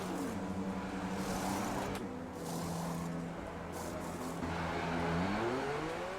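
F1 cars from the racing game F1 2022 pulling into the pits at the Austria circuit, several engines droning and shifting pitch continuously, loud and close, with rising whines as cars pass through.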